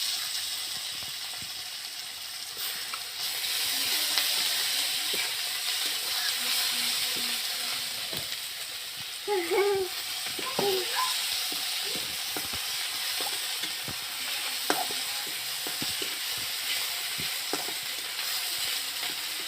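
Crushed ginger and garlic hit hot oil with spices for a fish curry, giving a low steady sizzle punctuated by scattered clicks and spoon taps, with a brief burst of scraping and stirring midway.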